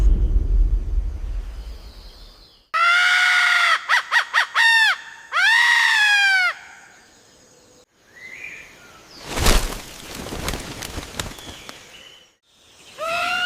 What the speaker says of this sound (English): Suddenly, the hornbill sounds a deafening alarm call.